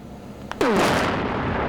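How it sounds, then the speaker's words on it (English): A drum packed with dozens of bags of high explosives detonates in one sudden, violent blast, followed by a loud sustained roar and rumble of debris that slowly fades. "dozens of bags of high explosives were loaded into the drum"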